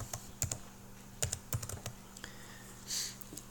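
Typing on a computer keyboard while entering a category name in a blog editor: irregular bursts of close, crisp key clicks with brief pauses between words, quiet and alone without speech.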